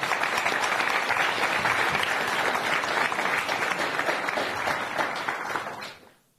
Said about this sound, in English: a big round of applause for them for coming here